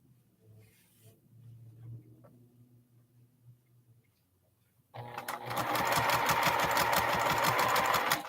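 A sewing machine stitches a quilt block along a quarter-inch seam, starting after a few seconds of quiet handling and then running in a fast, close, steady mechanical chatter until the end.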